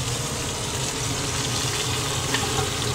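Pork satay fries in a pan with a steady, close, hissing sizzle that holds evenly throughout.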